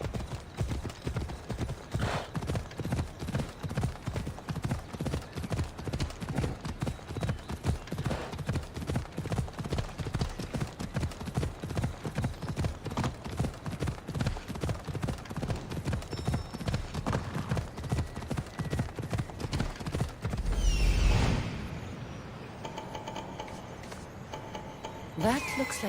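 A horse gallops in Assassin's Creed Odyssey, its hooves beating a steady, rapid clip-clop rhythm nonstop for about twenty seconds before a brief rush of sound and a slowdown.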